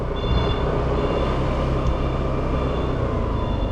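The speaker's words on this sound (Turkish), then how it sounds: "Aha tren geçiyor" A steady, heavy rumble of a passing train in Torbalı, İzmir, Turkey, fills the clip, loud and continuous with no break.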